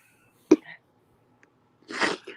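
A single sharp sneeze bursts out near the start, followed by a short quiet gap and then a brief voiced sound, indoors and close to the microphone.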